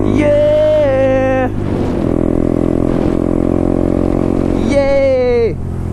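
A Honda Grom small motorcycle runs close by, its engine note rising and falling in two sharp revs at the start and end with a steady rumble between, while voices shout over it.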